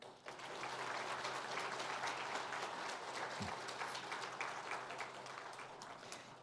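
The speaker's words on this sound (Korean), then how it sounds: "인사하실 때 우리 감사의 박수로 화답하겠습니다." A church congregation claps in thanks during a Sunday service, a steady and even wash of applause from a large room that runs throughout, with no voices over it.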